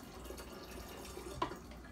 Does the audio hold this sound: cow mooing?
no